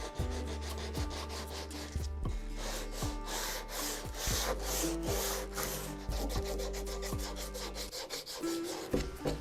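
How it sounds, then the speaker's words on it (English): Sandpaper scrubs the end grain of a wooden guitar neck in steady back-and-forth strokes, a loud, close, rasping rub that repeats rhythmically throughout. "this is sanding end grain, so it is a little gnarly"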